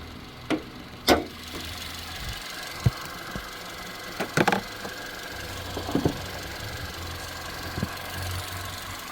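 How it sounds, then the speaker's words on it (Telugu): A Kia Seltos GT Line engine running at idle, a low steady hum under sharp clicks and knocks from handling nearby, heard close up without talk. "వెహికల్ ఇప్పుడు ప్రజెంట్ రన్నింగ్లోనే ఉంది, బండి ఆన్లోనే ఉంది"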